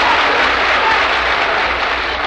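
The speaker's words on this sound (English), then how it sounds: "Please don't clap." Dense, loud applause from an audience in an auditorium, sustained at full strength for a couple of seconds with many hands clapping at once.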